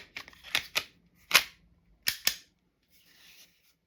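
A Glock 17 pistol being function-checked after reassembly: a series of sharp, close metallic clicks and snaps from the slide and trigger, in small irregular groups with brief pauses, then a faint rattle.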